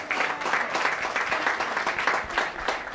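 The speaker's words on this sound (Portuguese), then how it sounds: "Senhoras e senhores, aplausos para o Nelson Vemba." A studio audience at a comedy talk show applauds to welcome a guest, an even, lively round of clapping with rhythmic pulses, fairly close and without talk.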